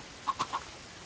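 Three quick, faint clucks from a Minecraft chicken, evenly spaced over a quiet background.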